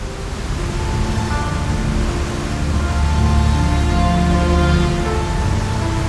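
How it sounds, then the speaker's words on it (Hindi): A powerful waterfall pours under high pressure between two mountains near Anini village in Arunachal Pradesh, giving a loud, steady, broadband roar that holds unbroken for the whole stretch with no other sounds over it. "इस वाटरफॉल की जो आवाज़ आ रही है वो इतनी तेज़ आ रही है"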